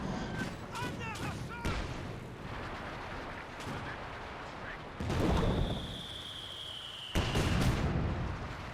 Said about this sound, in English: as soon as he gets enough munitions, you can find another incendiary rocket barrage, though hopefully the rockets will land better